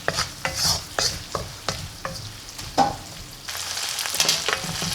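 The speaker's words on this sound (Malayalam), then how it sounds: "അപ്പോൾ ഇവിടെ തക്കാളിയും ഇതെല്ലാം ശരിക്ക് ഒന്ന് വഴണ്ട് വരുന്നുണ്ട്" Chopped tomatoes and onions sautéing in a pan for a soya dish, with repeated spatula scrapes and knocks over a close sizzle that swells louder and denser toward the end, with no talking.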